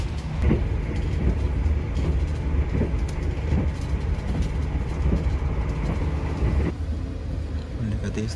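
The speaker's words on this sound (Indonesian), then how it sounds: "kereta menurunkan kecepatan ya" An Argo Dwipangga New Generation passenger train on the Jakarta–Solo run rumbles steadily as it slows, with faint rhythmic wheel clicks and muffled voices of people talking in the carriage.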